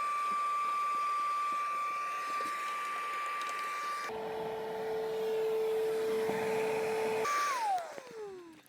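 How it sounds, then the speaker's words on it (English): Shop vacuum cleaning out crud around the headlight area of a BMW E46 car, a steady loud whine that shifts pitch partway through as the nozzle moves, then winds down at the end. "Alrighty, we got our vacuum out."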